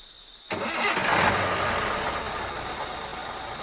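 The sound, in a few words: truck engine starting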